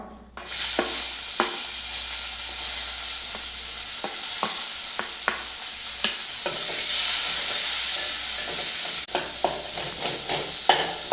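Onions frying in oil in a pan with cumin and bay leaves, sizzling steadily and loudly up close while a spoon stirs, with repeated scraping clicks through the hiss and no talk.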